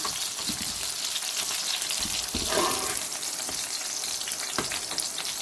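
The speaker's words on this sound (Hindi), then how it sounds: "तो इनको हम फ्राई कर लेंगे।" Eggplant pieces fry in hot oil for an Indian-style potato and eggplant masala, giving a steady, close, crackling sizzle with small pops throughout.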